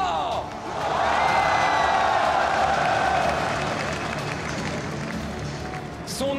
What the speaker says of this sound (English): un tonnerre d'applaudissements pour Karsa